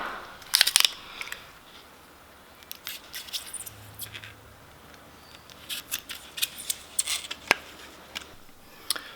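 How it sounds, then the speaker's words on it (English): Knife cutting apart LED channel strips backed with double-stick tape, giving sharp crisp snips and crunches in scattered bursts, close and fairly quiet, with no voices. "I'm running my knife through and cutting them apart after they're all done."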